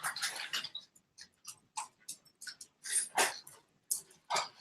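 A dog eating messily: a close, irregular series of sharp wet clicks, chomps and licking noises, with short gaps between bursts and no talk.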